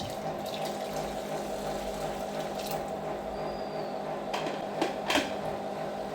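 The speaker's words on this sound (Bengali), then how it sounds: "জল দিয়ে দেব।" Water runs steadily from a tap into a cooking pot in a home kitchen, ready for hilsa fish curry, a constant close rushing flow with a few light clinks near the end.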